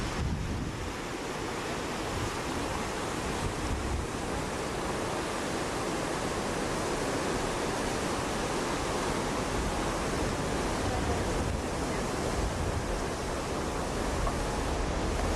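The Bulkley River rushing through a canyon beneath a bridge, a loud, steady roar of churning water with some wind rumble, continuous throughout with no talking.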